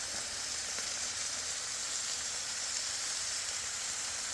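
Detwiler's corn smoked bacon sizzles on a hot griddle, a steady bright hiss of frying fat that holds at an even level throughout, with no voices.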